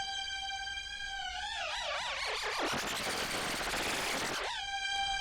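A sustained string clip run through the Ableton Warp audio effect, which blends reverb and chorus: steady tones begin to wobble and bend, swell into a dense, smeared wash, then settle back to the plain held notes.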